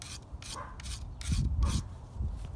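A steel file rasps along a machete blade in slow repeated strokes, each stroke a gritty scraping burst with short pauses between, close and fairly loud.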